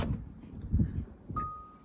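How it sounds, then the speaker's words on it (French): Tesla Model 3 or Y doors unlocking, a soft mechanical thunk or two followed by a brief, clear electronic tone, heard close and quiet. "ça a déverrouillé toutes les portes."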